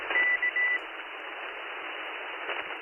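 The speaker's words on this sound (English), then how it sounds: "We also do Morse code." Morse code tones from ham radio software: a short run of clipped beeps at the start, then band-limited radio hiss through a narrow filter, close and steady.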